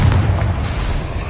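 A Confringo blast spell from the Hogwarts Legacy video game goes off as one heavy, close booming explosion with a deep low-end rumble, stretching into a dense sustained roar across the short burst.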